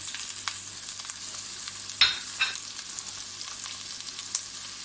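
Green onions sizzling steadily in a hot frying pan while being stirred, with scattered utensil scrapes and clicks over a constant hiss, close and moderately loud, no voices.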